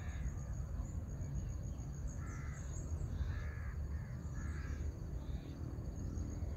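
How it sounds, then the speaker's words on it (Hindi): A few bird calls, mostly crow-like caws, sound faintly in the distance over a constant low outdoor background hum. "चिड़ियों की चहचहाट,"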